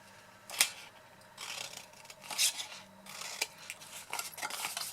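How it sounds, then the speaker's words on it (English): Scissors cut small wedges out of the corner squares of a paper box, giving a few sharp snips and crisp paper rustles at irregular intervals, close and fairly quiet. "I'm also going to cut my wedges out of the 4 squares in the corner"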